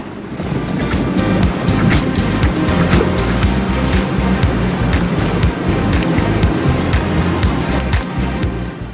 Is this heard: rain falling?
no